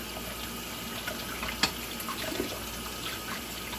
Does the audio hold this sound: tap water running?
yes